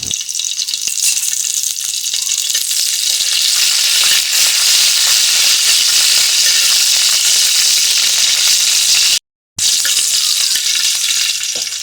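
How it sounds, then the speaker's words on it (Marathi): Cumin, garlic and chilli crackle and sizzle loudly in hot oil as a Maharashtrian tempering for sea fenugreek. A dense, steady hiss runs close and continuous, broken only by a brief silent gap near the end. "आता आपली फोडणी मस्त तडतडली आहे"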